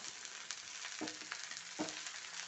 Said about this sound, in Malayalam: സവോള ഇട്ടിട്ടുണ്ട് നന്നായി ഒന്ന് ഇളക്കി കൊടുക്കുക